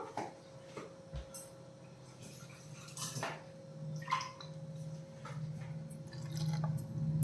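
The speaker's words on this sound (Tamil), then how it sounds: "இந்த மிக்சி ஜாரில் கொஞ்சமாக தண்ணி சேர்த்து அதையும் சேர்த்துடலாம்" Water pours into a mixer-grinder jar amid clinking dishes and utensils, with a steady electrical hum underneath and a few soft drips.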